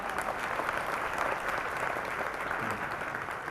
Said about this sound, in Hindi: ढंग से बजाओ ताली।